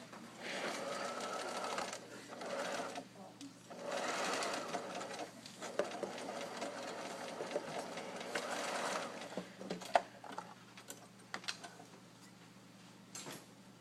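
A sewing machine stitches a dart in garment fabric for a set-in sleeve, running in several bursts of steady mechanical whirring with short pauses, then a few quiet clicks and handling taps near the end.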